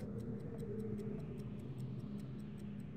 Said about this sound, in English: I don't know why this continues for so long with just a ticking sound